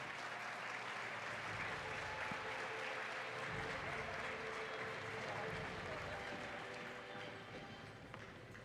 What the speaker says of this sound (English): Please join me in giving these outstanding photographers a round of applause.